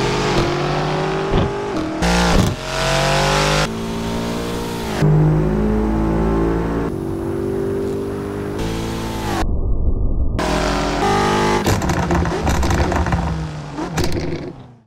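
Audi RS6 Performance, BMW M5 and AMG E63s cars launching and accelerating hard in an Assetto Corsa drag race, loud engines revving and roaring through rapid gear changes, no talk.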